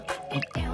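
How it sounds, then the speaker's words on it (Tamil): Water splashed onto the face of a woman who has fainted, a short wet splatter and drip repeated in two quick bursts, close and fairly loud with no talk. "முகத்துல தண்ணி தெளிங்க கொடுங்க."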